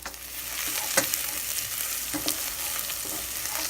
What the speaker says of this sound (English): saute these onions for a couple minutes until they turn slight gold